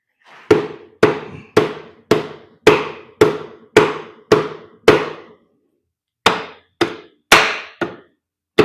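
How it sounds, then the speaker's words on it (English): A rubber hammer strikes the engine of a 2008 BMW 650ci that will not rotate, nine evenly spaced loud, sharp blows, a pause, then four more, each ringing briefly, with no talk. "Rubber hammer."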